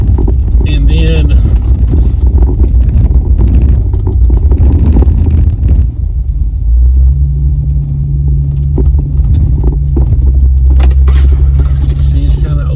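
A vehicle rolling slowly along an overgrown cemetery road in Land Between the Lakes, western Kentucky, a loud steady engine rumble with wind buffeting the microphone and a few brush scrapes.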